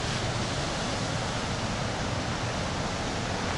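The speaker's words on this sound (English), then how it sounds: "Wow, you see the waterfall." A waterfall at Little Falls, New Jersey, near the Morris Canal, gives a steady, full roar of rushing water that stays even throughout, close and loud, with no voices.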